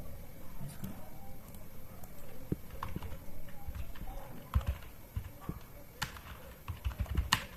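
Typing on a computer keyboard for a web search, with irregular clicky keystrokes, some sharper taps, over a faint background hum.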